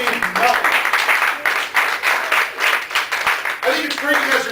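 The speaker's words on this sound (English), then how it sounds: "I think it's great you guys are clapping" An audience claps steadily through a live evening show, a dense wash of hand claps lasting the whole moment, with voices rising near the end.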